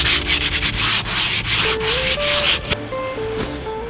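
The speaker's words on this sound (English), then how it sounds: "if you're aggressively sanding, or even lightly sanding" Sandpaper rubbing along a laminate wooden English warbow, a close, loud, continuous scratchy rasp with quick back-and-forth strokes and no talking.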